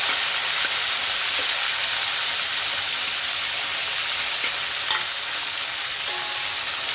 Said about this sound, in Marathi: आता कढईत हे चिकन तळून घ्यायचं।